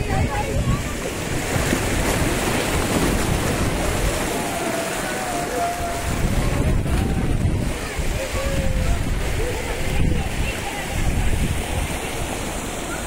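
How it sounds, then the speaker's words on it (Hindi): Sea waves wash and surge around the Gangeshwar temple on the Diu shore, a steady broad roar of surf with gusting wind buffeting the microphone throughout, loud and continuous. "ये देखिए समंदर, पूरा समंदर में ही है ये"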